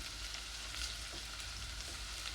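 Onions sizzle steadily in a pan while cooking toward golden for menemen, a dense, even frying hiss that stays constant and close throughout, with no talking.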